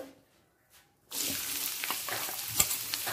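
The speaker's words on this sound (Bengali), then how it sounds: "একটা শুকনো লঙ্কা আর একটা তেজপাতা ফোড়ন।" After a brief quiet moment, a dry red chili and a bay leaf drop into hot oil and set off a sudden steady sizzle that continues, with light crackling pops, close and fairly loud.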